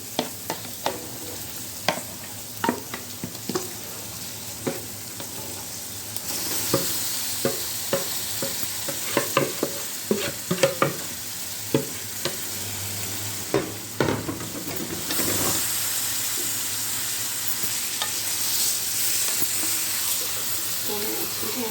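Chicken frying in ghee with onions for a chicken curry, continuous sizzling and hiss with repeated sharp scrapes and clinks of stirring; the sizzle swells louder in the second half.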